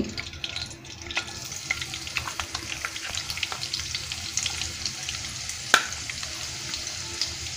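Chopped onion fries in a little ghee for a beef korma, crackling with a soft, steady sizzle. Scattered clicks of stirring come through and one sharper clink stands out.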